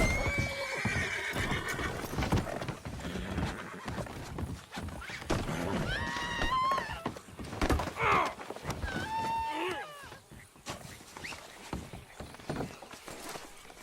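A horse whinnies several times over steady clip-clopping hooves in Red Dead Redemption 2, with a few groans and grunts mixed in.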